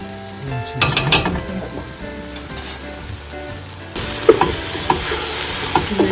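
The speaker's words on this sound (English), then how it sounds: "Give it a good swirl around" Cayenne and seasonings stirred in a pot for Texas chili, spoon scraping and knocking against the pot over a soft sizzle, with a steadier sizzle building near the end.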